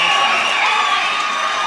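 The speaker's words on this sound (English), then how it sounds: "The crowd getting excited." A crowd at a cage fight cheers and shouts excitedly, a loud continuous roar of many voices throughout.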